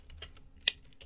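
A few crisp keystrokes on a computer keyboard while typing a Python command in a Kali Linux terminal, with one louder, sharper key press near the end.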